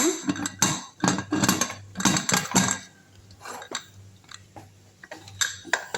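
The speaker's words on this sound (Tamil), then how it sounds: "அப்படியே வந்து குக்கரை க்ளோஸ் பண்ணிடலாம்" A metal pressure cooker lid is set on and shut in a home kitchen, giving a cluster of close metallic clanks, clinks and scrapes, loudest early, then quieter knocks with a low hum beneath.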